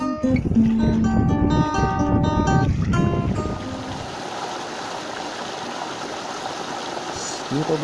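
Stream at Irayas Spring, a subsidiary stream once used by villagers for bathing, with steady rushing water that continues on its own once a stretch of background music fades out.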